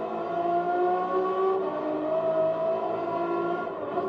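A Renault Megane race car in a racing video game revs and accelerates with a steady, droning engine tone that rises and shifts pitch over a few seconds.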